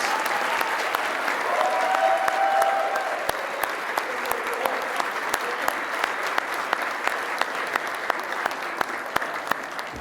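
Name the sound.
audience applause for project managers at awards ceremony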